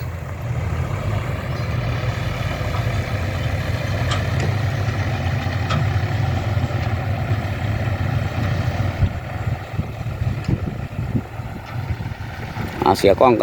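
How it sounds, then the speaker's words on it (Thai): A farm tractor works a field, leveling bumpy soil, with a steady low diesel drone running throughout and some clattering near the end. "รถไถ"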